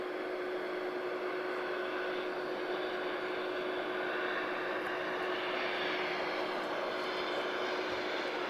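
A Star Air airplane at Lisbon Airport gives off a steady engine drone with a constant tone, filling the whole stretch at moderate distance with no talking.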